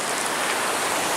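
A waterfall discovered on a road trip in Idaho gives a steady, dense rush of falling water, close and continuous with no other sounds.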